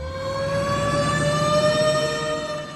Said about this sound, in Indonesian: akhirnya pihak kepolisian pun mengizinkan Johnson untuk dibawa ke rumah sakit dengan menggunakan ambulan